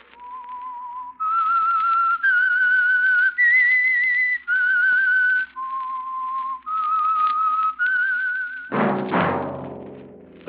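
A whistled theme melody opening an old-time radio mystery drama, sustained clear notes stepping up and down in a looping tune for about nine seconds, then ending with a sudden deep resonant low thump or gong-like strike.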